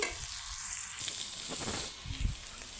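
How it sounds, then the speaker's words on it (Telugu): Bitter gourd (boda kakarakaya) curry cooking in a pan on the stove, a soft, steady sizzle with light stirring scrapes, close but quiet, no voices. "ఒక రెండు నిమిషాలు స్టవ్ మీద పెట్టుకుంటే బోడ కాకరకాయ కర్రీ రెడీ అయిపోయింది"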